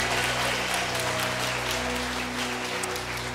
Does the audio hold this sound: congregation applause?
yes